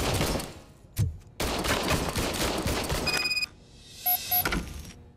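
An old service gun fires in Robocop: Rogue City: loud bursts of rapid shots from close range, with a short pause between volleys and a few thinner electronic tones near the end.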